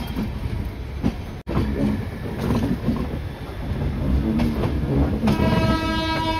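Moving local train heading from Howrah toward Mayapur, a steady broadband rumble of wheels and carriage noise throughout, with a brief dropout and a tonal horn-like sound toward the end.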